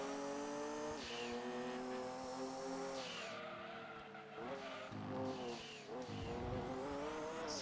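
A race car in the PlayStation 1 game Gran Turismo 2 revs hard and accelerates through gear changes, its engine whine rising and dropping with tire squeal and skidding, loud and continuous with no talk.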